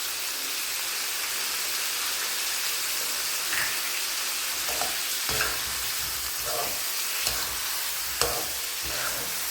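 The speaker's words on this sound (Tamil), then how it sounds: "நம்ம உப்பு சேர்த்து வதக்கும் போது தக்காளி சீக்கிரமாக வதங்கிடும்." Native country tomatoes sauté with salt in a pan for tomato thokku, a dense steady hiss of sizzling with occasional soft scrapes and bumps of a stirring spoon, close and continuous.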